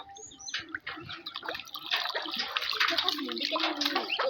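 Running water splashes and pours over ducklings, steady and close, while ducklings peep and people talk nearby.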